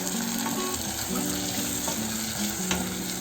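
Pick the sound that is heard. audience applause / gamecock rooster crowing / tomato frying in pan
tomato frying in pan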